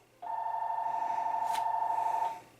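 A phone gives a single steady electronic tone lasting about two seconds, clear and close with a faint click partway through, then stops.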